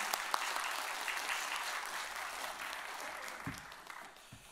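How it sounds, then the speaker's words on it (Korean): An audience at a Thursday women's church worship service applauds to welcome a guest speaker, a full steady burst of clapping that gradually thins out and fades. "우리 박수로 환영하도록 하겠습니다"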